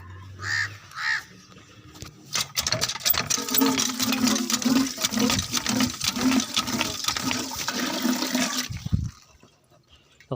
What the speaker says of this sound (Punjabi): ਪਾਣੀ ਡਾਲ ਲਿਆ, ਰੱਖ ਲਿਆ ਵਿੱਚ